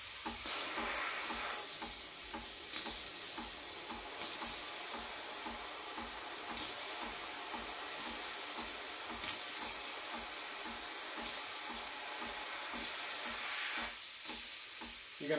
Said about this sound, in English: after you're done steaming your milk, you wanna purge